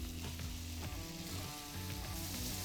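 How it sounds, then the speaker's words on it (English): Diced onions fry in hot oil with a loud, dense, continuous sizzle and crackle. It is close and steady, and no one speaks over it. "What I'm gonna do is add in some of those diced onions"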